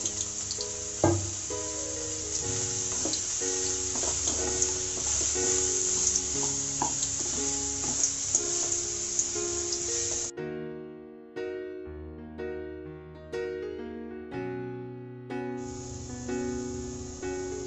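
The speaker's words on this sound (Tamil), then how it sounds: "ஸோ கொஞ்ச நேரம் இதை ஹை ஃப்ளேமில் ஃப்ரை ஆகட்டும்." Marinated spiced tapioca (cassava) fries in hot oil over a high flame, giving a loud, steady sizzle that cuts out partway through and returns near the end, with soft music beneath.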